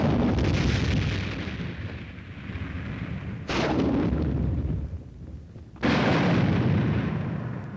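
Massed weapons of a reinforced infantry company firing all at once in a Mad Minute demonstration at Fort Benning, Georgia: a dense, continuous roar of gunfire and blasts, with two sharp fresh volleys surging in partway through, loud and without voices.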